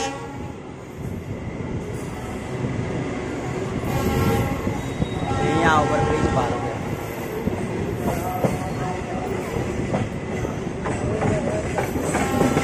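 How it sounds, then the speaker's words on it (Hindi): A railway engine runs at a station, a loud steady rumble and rattle of rolling stock with a horn-like tonal sound near the middle and ongoing background noise throughout. "और ये इंजन चल रहा"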